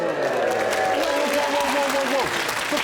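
Studio audience applause at a comedy panel show, a steady wash of clapping throughout with someone talking over it.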